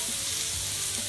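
Meatballs fry in a pan with a constant dense sizzle and crackle, close and steady for the whole short moment.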